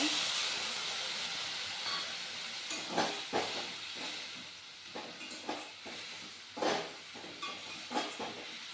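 Cauliflower frying in a pan with ginger garlic paste as water goes in, a steady hiss and sizzle with scattered stirring knocks and clatters, fairly faint and close.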